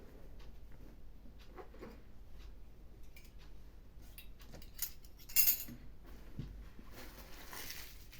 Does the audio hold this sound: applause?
no